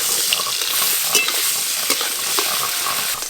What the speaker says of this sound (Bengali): এই দানাগুলো আমি হালকা করে ভেজে নেব।